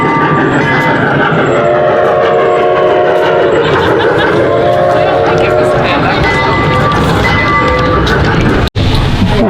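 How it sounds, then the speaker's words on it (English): A trackless tram-style train at the Nashville Zoo rumbles into the station with steady mechanical noise, a sustained horn-like tone and squealing, loud and close, while a person talks over it. "I do see the trains now arriving in the station."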